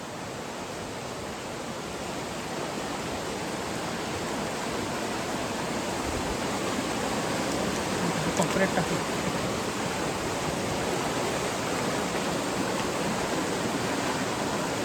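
Rushing water from a stream swollen with plenty of water after wind and rain fills the scene as a loud, constant broadband roar, with a short spoken phrase near the end.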